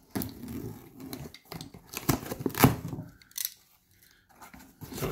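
Scissors or a blade cutting through the tape and cardboard of a boxed anime figure, a few close, crisp snipping and crunching bursts with quiet pauses between them.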